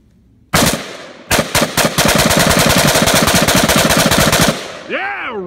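Rifle fitted with a Franklin Armory BFS3 binary trigger firing loud, close bursts: a single shot, a brief pause, then a long rapid string of sharp reports that stops abruptly, followed by a whistling tone.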